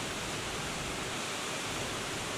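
Minnehaha Falls in Minneapolis, Minnesota, pours in a steady, dense rush of broadband water noise that stays constant and fairly loud throughout, with no voices over it.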